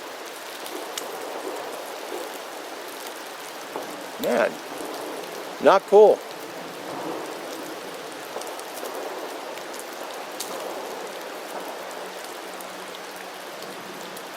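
Steady rain patters on a military pup tent during an overnight camp, a constant hiss throughout with someone briefly talking partway through.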